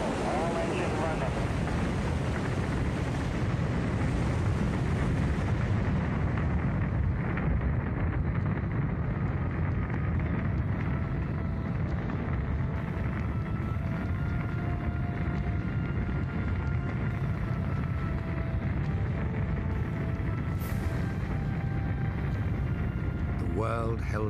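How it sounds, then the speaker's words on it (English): A Saturn V rocket lifts off for the Apollo 11 moon mission, its engines producing a continuous, loud, broadband roar with rumbling crackle that stays dense and unbroken throughout, while a voice narrates over it. "To reach the moon, NASA created the most powerful rocket they'd ever built, the mighty Saturn V."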